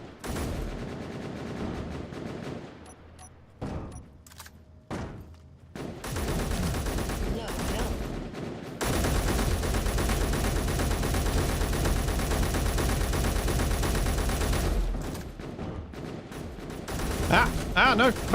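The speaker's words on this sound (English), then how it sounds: "Can't tell who's who, so I'm just firing into the fray." Sustained heavy automatic gunfire and chaotic battle noise in a video game firefight, dense and loud for long stretches, broken by brief pauses and single shots, with a voice speaking over it at times.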